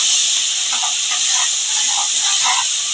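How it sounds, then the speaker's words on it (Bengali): Onion paste fries in hot oil, giving a loud, steady sizzling hiss that stays even and continuous, with faint background sounds beneath it. "এই পেঁয়াজ বাটাটা একটুখানি আমি ভালো করে ভেজে নেব।"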